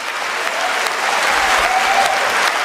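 An audience claps steadily and loudly for a few seconds, a dense continuous burst of applause with no voices over it.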